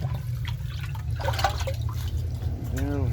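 Water in a barrel drips and sloshes with small splashing and trickling sounds over a low steady hum, with a voice speaking briefly near the end.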